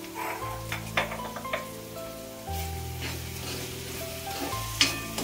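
Sliced onion and bitter gourd fry in hot oil in a pan, giving a steady close sizzle broken by a few clinks and scrapes of a stirring spoon.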